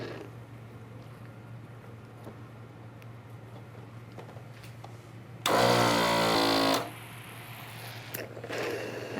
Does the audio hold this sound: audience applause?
no